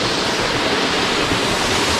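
Water from Edith Falls pours into its plunge pool with a loud, continuous roaring rush heard up close, steady and unbroken, with no voices.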